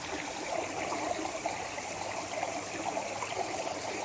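A little waterfall in a small creek trickles over rocks and stones, giving a steady, close, moderately quiet splashing and gurgling flow with no voices.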